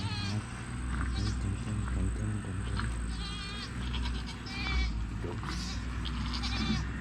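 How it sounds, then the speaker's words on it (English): Goats in a pen bleat repeatedly, several close wavering calls overlapping at irregular intervals over a low ambient hum, with no talk. "Goats, goats, goats."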